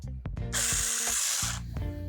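A power saw cuts through a wooden log outdoors in the evening, a steady loud whine lasting about a second, with tool clatter and knocking before and after.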